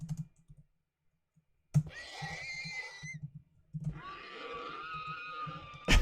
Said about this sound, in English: play sound entity dot horse dot death